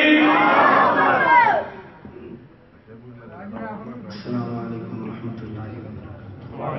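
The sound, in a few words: crowd shouting response to Naara-e-Takbeer chant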